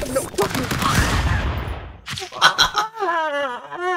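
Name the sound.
minigun gunfire in the video game Stick Fight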